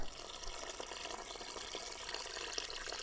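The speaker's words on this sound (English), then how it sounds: "There is a water tap, drinking water tap nearby, so I'm gonna fill this up." Drinking-water tap outdoors filling a Camelback water bladder: a steady, moderately close rush of running water with bubbling and splashing texture, continuous throughout and alone.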